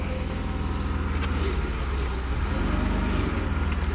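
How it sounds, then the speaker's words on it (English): A Mercedes 300SE W126 engine idles steadily up close, its slack alternator belt squealing faintly over the low rumble. "The belt squeals a little bit because obviously we have really no tension on it."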